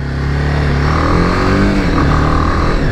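A modified BMW G 310 GS motorcycle engine revs steadily and loudly up close, a continuous throbbing drone with no talk over it.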